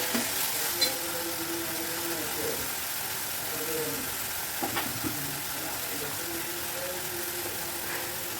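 Chilli powder sautés in an oiled pan for a sardine curry, a steady close sizzle with occasional scraping stirs and clicks while someone talks over it.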